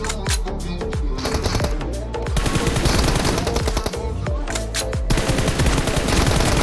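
Gunfire in a multiplayer team deathmatch shooter game, with loud, rapid automatic bursts close by and a continuous rattle of shots with brief pauses, under faint talk.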